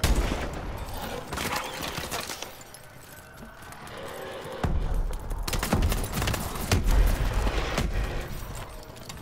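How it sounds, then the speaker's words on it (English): Mini rocket launcher style gun fired in Call of Duty Advanced Warfare Exo Zombies: rapid volleys of punchy blasts and booms that pause briefly and then resume, loud and close. "It's like a mini rocket launcher, isn't it?"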